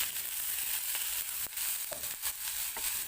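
Sliced beef stir-fried with wilted chili and spices in a hot pan, steady close sizzle with occasional scraping and stirring knocks, no talk.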